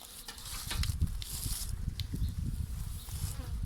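Honeybees buzzing around a newly hived swarm outdoors, a low, continuous drone from many insects close by, with faint rustling and soft bumps layered over it; no one is talking.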